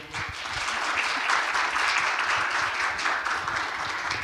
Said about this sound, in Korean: 따뜻한 박수로 맞아주십시오